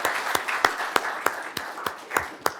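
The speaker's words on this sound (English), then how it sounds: "Hopefully we can get a round of applause for this amazing panel." A small conference panel audience claps in sparse, evenly spaced individual hand claps rather than a dense ovation. The claps are fairly close and crisp, with a faint room murmur between them.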